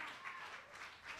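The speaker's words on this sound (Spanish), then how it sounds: "Denle un aplauso a Cristo." A church congregation breaks into steady applause, a dense, even wash of clapping that holds at a fairly faint level for its whole length with no voices standing out.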